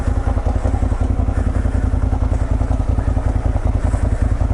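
A heavy naked Street Fighter-style motorcycle is pushed backwards up a hill, with a steady, loud, close low engine-like pulsing throughout and faint clatter on top.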